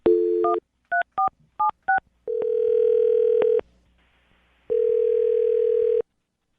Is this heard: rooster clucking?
no